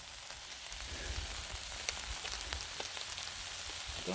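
Ground beef and pork blend sizzles steadily on a flat griddle, a constant crackling hiss with scattered pops, close and even throughout with no talking.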